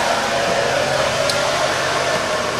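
A ventilation fan in a 2004 Ford E450 runs on its high setting, giving a loud, steady broadband whoosh that holds evenly throughout with no pauses.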